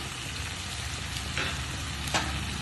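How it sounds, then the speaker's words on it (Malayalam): Soy, chilli and fish sauce poured into a hot pan for Thai basil chicken, a steady loud sizzle close by with a couple of brief hissing bursts as the liquids hit the pan. "ഇനി നമുക്ക് 1 ടേബിൾ സ്പൂൺ സോയാ സോസും 1 ടീസ്പൂൺ ചില്ലി സോസും 1/2 ടീസ്പൂൺ ഫിഷ് സോസും ഒഴിച്ച് കൊടുക്കാം"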